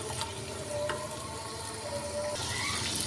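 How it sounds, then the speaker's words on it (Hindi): Garlic, ginger and tomato fry in a pan with a continuous, even sizzling hiss that stays close and moderately quiet for the whole stretch. "हुण थोड़ा सी वेट करांगे कि लसन अदरक भी भुनिया जाए और टमाटर भी जो ना हल्के जो सॉफ्ट हो जान।"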